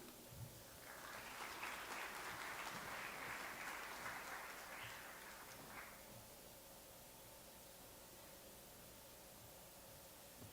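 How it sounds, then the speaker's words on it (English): A conference audience in Nairobi claps together for about five seconds, and the steady applause fades into room tone. "let's give him a more heartier clap"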